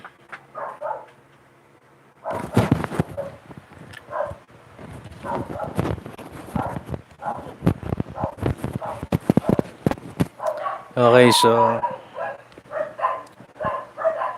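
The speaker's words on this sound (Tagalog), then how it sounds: "ang ingay ng mga aso ko." Several dogs bark in short, irregular bursts close by, with a louder cluster of barks and a whine near the end, heard under and between a person talking.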